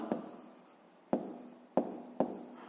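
Pen strokes mark a sum during a fifth-grade maths exercise, four distinct taps of the pen on paper, each followed by a brief scratchy trail, quiet and close with no voices.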